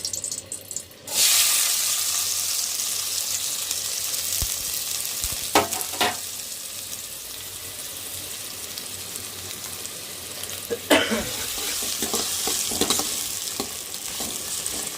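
Food frying in a pan on a home stove, a steady close sizzle that runs throughout with occasional stirring clatter and brief bursts of louder crackle.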